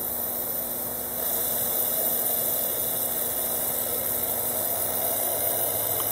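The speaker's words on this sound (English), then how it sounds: "when I open the fuel valve, theoretically we should be getting a lot of diesel vapor" Diesel atomized into vapor through a homemade 9mm bullet atomizer once the fuel valve opens: a steady, dense hiss that steps up slightly in strength after about a second, then holds constant over a low background hum.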